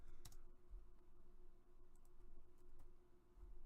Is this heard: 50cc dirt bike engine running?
no